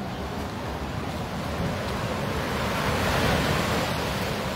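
Sea waves washing onto a beach at high tide, a dense, continuous roar of surf with wind buffeting the microphone, steady and close, with no voices.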